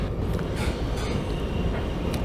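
CSX freight train rolling past on the ANB Line at Albany Avenue in Waycross, with cars including auto haulers. A steady, close, broadband rumble and rattle of rolling cars fills the clip without pause.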